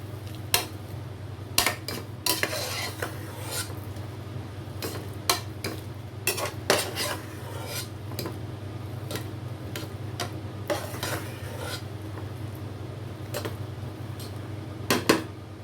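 Cooked sweet pongal is mashed in a pot, with irregular soft clinks and scrapes of a utensil against the metal scattered over a steady low hum, fairly quiet and without talk.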